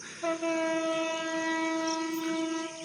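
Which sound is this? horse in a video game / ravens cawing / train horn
train horn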